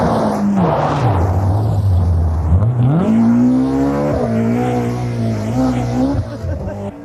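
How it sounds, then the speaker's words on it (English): An Opel Manta 400 rally car races past on a stage of the 1990 Donegal International Rally. The engine howls loud and close, its pitch dropping and then climbing through gear changes, while a commentator talks over it. "The sensational new boy, Andrew Nesbitt, in the Philip White Tyres Manta 400"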